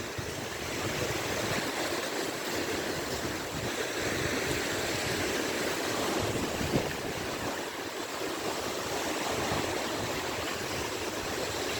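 Sea waves of the Gulf of Finland wash in steadily as a constant broad surf roar, with wind buffeting the microphone and no talk.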